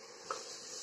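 Beef sautés quietly in a pan with a soft, steady sizzle and one small stirring clink near the start.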